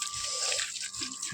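Cold water splashing and trickling as hands and feet are washed at a livestock shed in Upleta, a steady close wet patter with a brief low voice.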